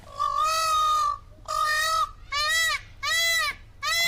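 A peacock gives four loud, harmonic wailing calls with a brief fifth cut short at the end, each about half a second to a second long, separated by short pauses.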